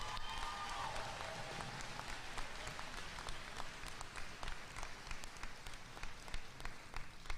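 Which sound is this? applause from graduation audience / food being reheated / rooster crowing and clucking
applause from graduation audience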